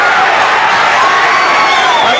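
A boxing arena crowd at a 1985 light heavyweight title fight roars in a dense, loud, continuous wash of cheering, steady and close throughout, with a commentator's voice faintly under it.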